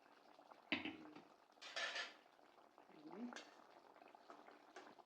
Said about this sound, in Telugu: ఇప్పుడు ఉడుకుతుందండి